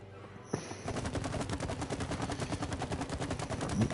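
Rapid automatic gunfire in a video game erupts after a short quiet moment and rattles on without a break, loud and close, with no voices.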